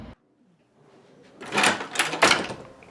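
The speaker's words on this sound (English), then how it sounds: "Oh, the door stopped." A hotel door slides and thuds shut nearby, a scraping rattle building into a couple of knocking impacts after a brief quiet pause.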